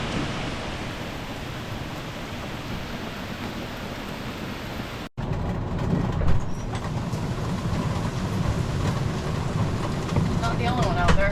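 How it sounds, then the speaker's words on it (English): Heavy rain pours on a camper at a campsite, a continuous loud hiss with scattered drips and taps close by, breaking briefly before resuming even louder. "It started raining at 6 and it looks like it's going to be pouring for hours."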